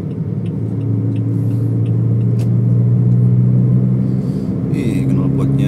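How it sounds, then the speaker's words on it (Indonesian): A modified Toyota Vios limo, fitted with TRD Sportivo parts, drives along with its exhaust giving a steady low, loud rumble from inside the car, brief clicks and tones sounding over it. "Ih, knalpotnya enak banget suaranya"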